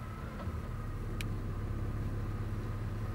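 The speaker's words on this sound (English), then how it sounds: "We'll put it in gear, see what happens." A high-mileage Chevy engine with over 460,000 miles runs steadily at a low, even idle after being put in gear, a close continuous rumble with a faint brief click.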